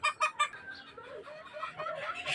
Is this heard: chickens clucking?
yes